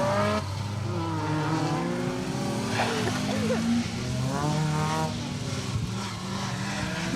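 Rally car speeding through a stage of the Menai Stages rally, engine note rising and falling steadily with harmonic sweeps as it passes, loud and continuous throughout with crowd or voice sounds faintly mixed in.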